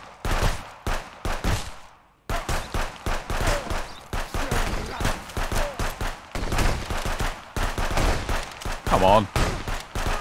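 Gunfire in the video game Contraband Police, including a shotgun, sounds as a dense run of loud close shots and bursts in quick succession over most of the stretch, with a voice speaking briefly.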